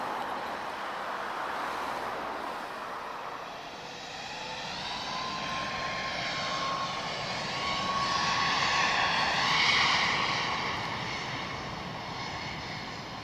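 Steady aircraft engine roar at Lisbon Airport, a broad droning whine that swells louder toward the end, with no talking.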